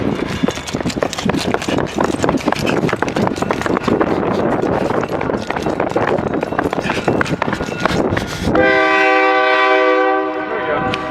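A model train runs loudly at a train show with a dense rattling rumble, then gives a sustained, tonal horn blast near the end, close and prominent.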